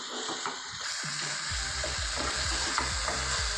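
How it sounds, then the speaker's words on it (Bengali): Chicken frying with garlic and ginger paste in a pan, a soft sizzle under a regular rhythm of spatula scrapes and stirring strokes, fairly quiet and without speech. "এবার এর মধ্যে আমি রসুন বাটা আর আদা বাটা অ্যাড করলাম, দিয়ে ভালোভাবে আমি 1 থেকে 2 মিনিট কষিয়ে নেব।"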